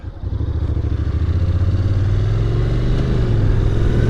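A 2021 Honda NC750X DCT motorcycle rides through open country with crosswinds, its engine droning steadily and close, with a rising mid-range hum and constant wind rush.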